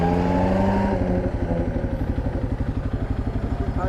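A motorcycle is ridden steadily on a road in Nigeria. Its engine makes a loud, close, rhythmic throb that stays constant throughout, with a low pulsing beat and a faint hum of traffic behind it.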